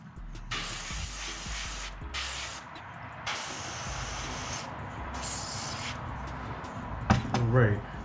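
An airbrush sprays paint onto a micro BFS bluegill fishing bait in several close, hissing bursts of a second or so each, separated by short gaps, with a brief voice near the end.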